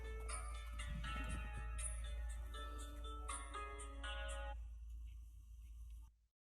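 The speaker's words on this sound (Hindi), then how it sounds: "साहब जी आपका फोन आ रहा है" A phone rings with a repeating electronic tone, a steady melodic pattern of bright notes that continues for about five seconds and then cuts off, with a constant low hum underneath.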